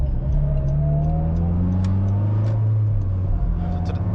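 Car engine pulling steadily under acceleration on a residential touge-style drive, heard from inside as a loud continuous drone with rising gear tones and no talk.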